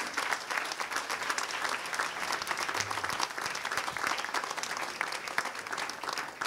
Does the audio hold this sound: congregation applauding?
yes